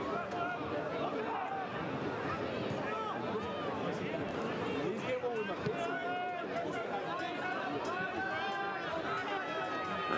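Steady crowd murmur and chatter fill the stands at a Monterey Bay F.C. soccer match against Miami FC on an evening on the Monterey Peninsula, a dense, continuous babble of many voices with scattered nearby talk throughout.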